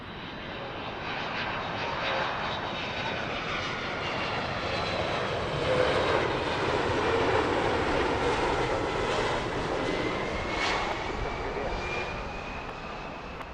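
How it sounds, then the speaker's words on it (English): A Boeing 767 landing at Heathrow Airport produces a loud, sustained engine roar with a steady whine that swells slightly at touchdown and then holds. "Beautifully smoky touchdown from the 767."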